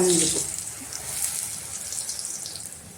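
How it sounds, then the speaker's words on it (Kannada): A puri dropped into hot oil sets off a loud, steady sizzling hiss of frying close by that slowly eases off. "ಎಣ್ಣೆ ಕಾದಿದೆ ಇವಾಗ ಪೂರಿ ಬಿಡ್ತಾ ಇದ್ದೀನಿ"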